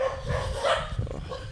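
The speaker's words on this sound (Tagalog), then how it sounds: "Ayun na, ang dami ng aso." Several dogs bark and yip on arrival at a rural settlement with houses, in short, close, irregular bursts over outdoor background noise.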